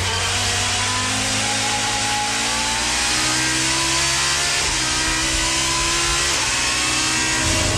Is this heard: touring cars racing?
yes